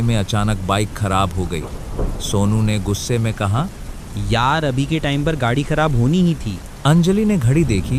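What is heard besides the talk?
heavy rain with thunder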